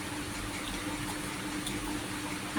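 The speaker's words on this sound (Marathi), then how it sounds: "किसून घेतल्यानंतर आपण थोडं पाणी टाकायचं" Water pours briefly onto grated soap while making grape-shaped soap, a soft steady splashing trickle close by, no voices.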